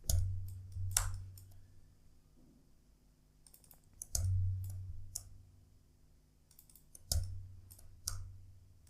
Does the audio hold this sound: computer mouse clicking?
yes